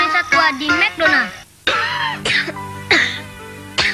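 Coughing and throat clearing in a 1990 Indonesian Ikadril cough medicine advert, several loud, close, harsh coughs in quick bursts separated by short pauses.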